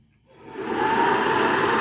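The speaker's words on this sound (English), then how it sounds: "70-year-old blower motor." A 70-year-old blower motor from a 1951 Chevy spins up from silence into a steady, loud, airy whir that holds constant, close by with no talking.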